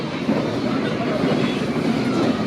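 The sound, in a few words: Pasundan New Generation train interior noise over switches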